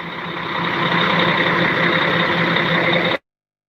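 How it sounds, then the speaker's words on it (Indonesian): A passenger bus engine idles steadily and loud nearby on an Indonesian bus route, a dense continuous drone with a faint high whine and a repeating reversing-style beep pattern, cutting off abruptly at the end. "Suara mesinnya mantap."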